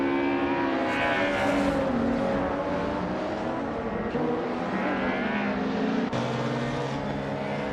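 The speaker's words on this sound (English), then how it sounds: "Wolf's Light and Chizendashower are dueling closely for position 18" Race car engines drone and whine with shifting pitch in a racing video game, several cars close together, loud and continuous, with a sudden gear or pitch change near the end.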